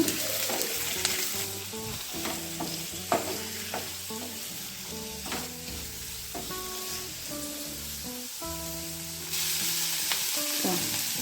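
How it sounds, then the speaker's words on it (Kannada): Garlic and ginger fry in a pan with a constant close sizzle, along with repeated clinks and scrapes of a spoon against the metal. The sizzle grows louder near the end, and no voice is heard. "ಒಂದು ಸಣ್ಣ ಶುಂಠಿ ಪೀಸು ಚೆನ್ನಾಗಿ ಫ್ರೈ ಮಾಡ್ಕೊಳ್ಳೋಣ"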